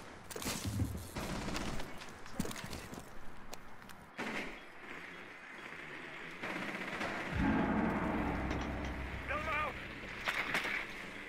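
Bursts of video game gunfire and thumping impacts come through a busy, noisy mix, with someone talking over much of it.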